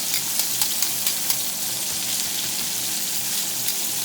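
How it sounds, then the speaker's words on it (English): Garlic and vegetables sauté in hot oil, giving a steady, close hiss and sizzle with small crackles and light stirring scrapes throughout. "And then go ahead and saute"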